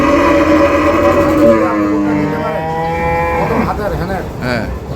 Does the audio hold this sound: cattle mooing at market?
yes